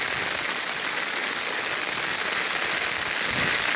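Steady heavy rain pours at a flooded railway station in Palghar, a dense continuous hiss of water and splashing that holds at even loudness throughout.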